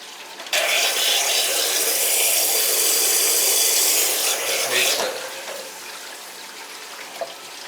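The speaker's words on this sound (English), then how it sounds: "Got that hose wide open there." Water gushing from a garden hose turned wide open, a loud close hiss and splash that starts abruptly, holds steady for several seconds, then drops to a softer continuous flow.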